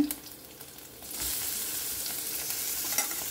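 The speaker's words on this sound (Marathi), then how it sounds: "कांदे न्ही आमकां बरें 1-2 मिनटांनी फ्राय करून घेवंक जाय." Onions hit hot oil in a pan and erupt into a loud, continuous close sizzle and crackle that persists steadily, with stirring and no speech.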